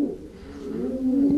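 Racing pigeons coo at their loft in a short, soft, throaty call with low warbling tones, close by and alone.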